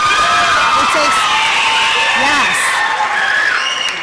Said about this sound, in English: we got to give her another round of applause